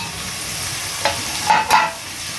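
Sliced tomatoes added to drumsticks already frying in oil make a close, steady sizzle, with a few scraping stirs and soft clinks over the hiss and no talking.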